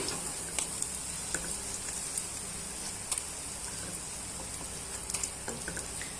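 Potato chops (aloo chop) frying in hot oil: a continuous close crackling sizzle dotted with small pops and spits, steady throughout.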